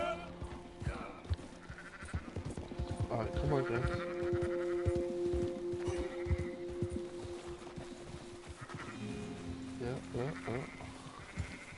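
Sheep bleat repeatedly in Red Dead Redemption 2, wavering cries scattered across the scene while someone talks over them.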